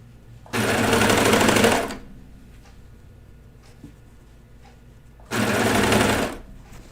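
A sewing machine stitches kids' pajama bottoms in two loud, steady bursts of about a second and a half each, with a quiet pause between them and no talking.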